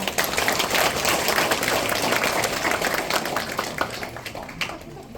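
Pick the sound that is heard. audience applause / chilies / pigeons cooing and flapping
audience applause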